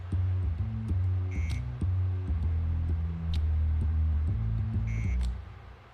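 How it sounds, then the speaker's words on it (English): Repeating electronic alarm beeps from the stealth video game Gunpoint, sounding in short bursts over a steady synth music bed, with brief higher chirps layered on top. "The alarm keeps turning on, doesn't it?"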